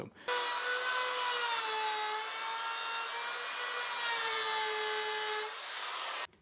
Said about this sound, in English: I'm going to set the depth of my router to be just shy of going all the way through the board